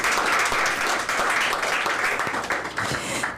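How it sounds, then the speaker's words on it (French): An audience applauds a candidate at a reading contest, with thick, sustained clapping from many hands that stays fairly loud throughout and thins slightly toward the end. "que maintenant on applaudit"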